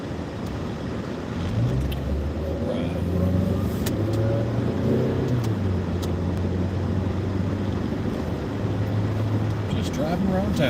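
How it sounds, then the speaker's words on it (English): A car driving around town, its steady engine hum and road rumble filling the cabin with a low, continuous drone, fairly loud and close throughout. "Driving around town today."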